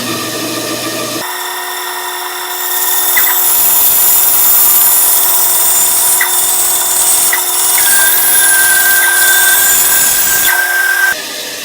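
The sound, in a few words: bandsaw cutting a wooden board contour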